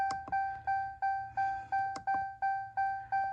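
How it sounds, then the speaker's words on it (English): Repeated electronic warning beeps sound while a Cheetah Turbo engine is started up, a steady chain of about ten evenly spaced, loud tonal beeps with a faint mechanical rumble underneath and no talk. "Sorry for the beeping"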